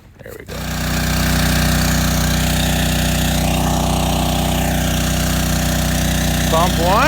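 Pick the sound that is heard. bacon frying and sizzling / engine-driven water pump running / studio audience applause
engine-driven water pump running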